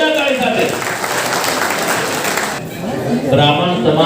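A crowd at a Brahmin community honours ceremony in Navi Mumbai claps loudly for an elderly honoree, sustained applause that swells and fades while someone speaks over it through a microphone.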